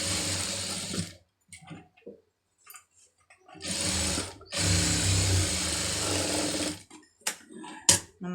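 A sewing machine stitches a saree. It runs in several bursts, the longest lasting about two seconds, with short mechanical taps and pauses of silence between runs.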